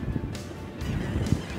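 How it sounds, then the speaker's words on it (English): Birds call and squawk over open water near a rocky ledge during a boat trip fishing for redfish, harsh honking cries rising in short bursts over steady wind and water noise, moderately distant. "Those birds are getting after it on something down there."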